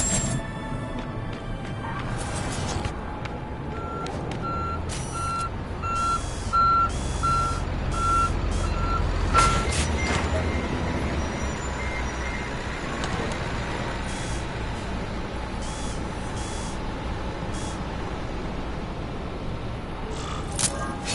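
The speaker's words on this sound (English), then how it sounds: "Truck will be here soon!" Truck reversing beeps sound in the Spider-Man 2 video game as a steady, repeating series of mid-level electronic beeps over a constant rumble of engine and city noise, with occasional clatters.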